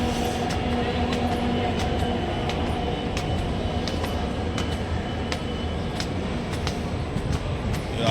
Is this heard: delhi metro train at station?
yes